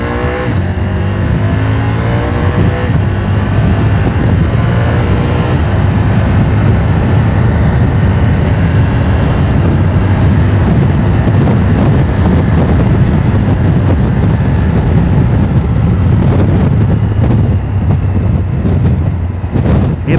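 A CF Moto 1000MTX motorcycle accelerates while being ridden, its engine droning steadily and loudly under strong wind rush through the whole ride, with no talking.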